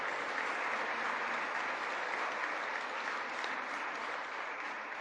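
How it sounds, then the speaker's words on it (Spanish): Parish congregation at a Eucharist celebration breaking into sustained applause, a thick, even wash of clapping from a large crowd, steady and unbroken. "Un aplauso."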